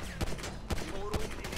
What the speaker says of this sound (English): Opening fire right outside of prison is a bad idea.